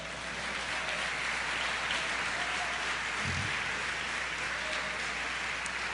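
A large church congregation claps continuously in a dense, even wash of applause, with no talking.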